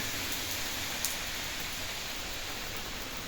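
Steady rain falls outdoors in a garden, a soft, even hiss with no breaks, faint and continuous with no voices.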